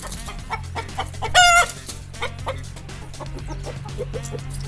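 A hen clucks in short bursts, with one louder, higher squawk near the start, over a steady low hum.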